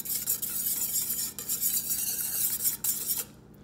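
Honey being mixed into a tamarind glaze for baby back ribs, with a spoon scraping and clinking against the pot over a continuous bright sizzle, ending abruptly.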